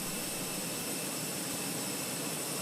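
Steady, broadband jet engine roar from a Fenix A321 airliner in Microsoft Flight Simulator 2024, loud and unbroken with no talk over it.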